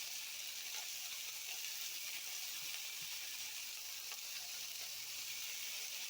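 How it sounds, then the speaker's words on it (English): Mushrooms, yellow pepper and other vegetables frying in a seasoned pan, giving a steady bright sizzle that holds for about six seconds, with faint stirring clicks scattered throughout. "So I'm gonna throw some more vegetables in there"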